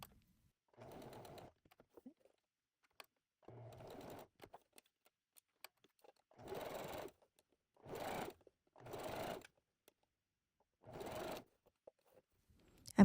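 A sewing machine stitches fabric in short bursts of steady whirring, about seven runs with quiet pauses between, close and fairly soft.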